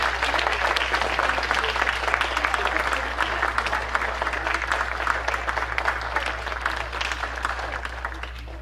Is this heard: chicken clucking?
no